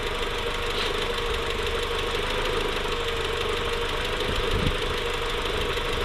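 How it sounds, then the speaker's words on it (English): Toyota Supra MK4 engine idling with its secondary air injection running, a steady mid-pitched mechanical drone with a soft hiss throughout, close and fairly even in level. "there's the secondary injection kicking out one more time"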